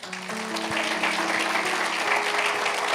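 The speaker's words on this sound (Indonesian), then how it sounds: "Kasih tepuk tangan untuk Tuhan." Congregation applauding during a church sermon, a steady broad wash of many hands clapping that swells slightly and holds for the full stretch, with a faint sustained tone underneath.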